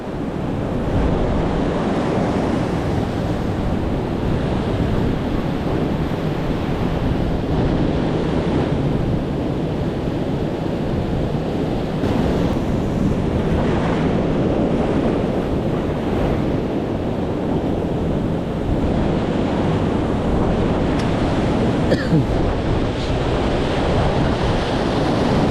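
Ocean surf rolling onto the shore during a catch-and-release fishing outing, a loud continuous wash of breaking waves with strong wind buffeting the microphone throughout.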